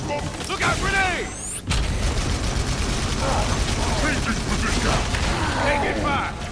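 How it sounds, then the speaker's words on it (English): Grenade blasts and gunfire from the Halo video game, a dense continuous barrage of shots and booms with a brief pause near the start, mixed under game voices and clipped chatter. "Look out, grenade!"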